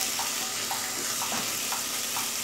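Ginger garlic paste fries in a pan over medium heat for pav bhaji, making a dense, steady sizzle with soft, regularly spaced stirring taps close by and no talking.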